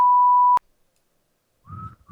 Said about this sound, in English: Sorry, that was a timer going.